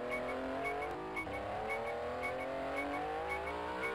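Racing car engine in the arcade game 1000 Miles Rally, a steady buzzing whine that climbs gradually in pitch as the car accelerates, with faint tire squeal at times.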